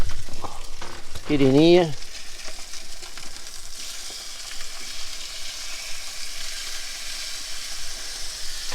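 Eggs frying in a pan at a riverside catch-and-cook, a steady close sizzle running through the clip; someone speaks briefly near the start.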